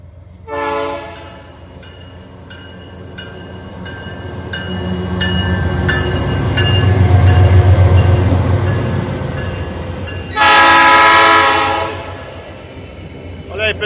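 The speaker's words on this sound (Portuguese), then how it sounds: "mais um trem da VLI" A VLI freight train rumbles past in Embu-Guaçu, Brazil, with rhythmic clatter building and fading, its loud horn blaring near the start and again strongly toward the end.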